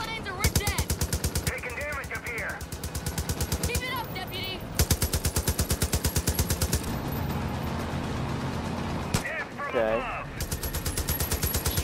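Rapid automatic gunfire in the Far Cry 5 video game rattles in long, steady bursts with short pauses, loud and close, with brief game sound effects between volleys.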